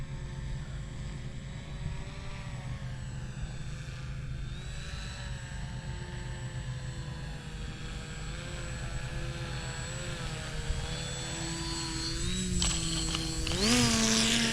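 The buzzing electric propeller of a HobbyKing RC paramotor drones steadily at a distance as it flies in to land, its pitch wavering and then rising sharply near the end.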